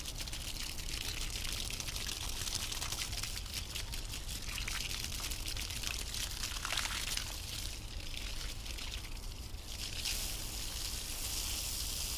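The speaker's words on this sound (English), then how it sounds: "So now we're just going to water it" Water pours steadily onto the fresh soil around a newly planted mango tree in a backyard. The flow is close and continuous for the whole stretch, with no talk over it.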